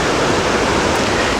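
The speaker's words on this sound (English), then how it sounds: "as the water goes over these rocks, creating sort of a waterfall" Shallow stream water pouring over rocks in a small waterfall, a loud, close, continuous rushing roar with no pauses.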